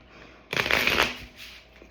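A deck of tarot cards is shuffled once in a quick, crisp riffling burst lasting under a second, close and fairly loud, then fading to a softer rustle.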